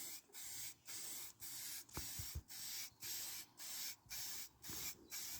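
Spray can painting car wheels: seven or eight short hissing bursts in a steady rhythm, each about half a second, separated by brief pauses, close and fairly quiet.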